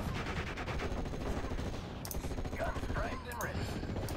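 Machine-gun fire from Steel Division, a World War II strategy game set in Normandy hedgerows, rattles in dense, continuous bursts throughout, with scattered distant shots and battle noise layered underneath.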